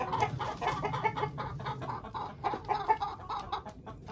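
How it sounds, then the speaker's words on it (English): Chickens cluck and chatter close by in a coop in a busy, continuous jumble of short calls, with no talking. "Chickens, come on out."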